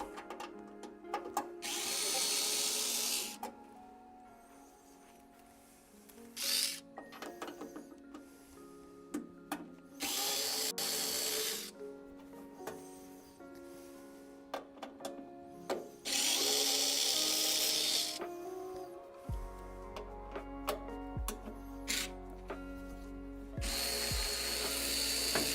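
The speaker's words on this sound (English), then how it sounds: "So let's take out all 20 of these screws." A power drill backs screws out of a Skywalker V1 casing in several bursts of loud whirring, separated by quieter pauses of handling and clicks, close up and with nobody talking.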